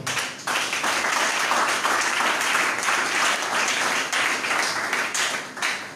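A church congregation claps and applauds during a sermon, a dense, steady burst of hands that holds strong for several seconds and then tapers slightly toward the end.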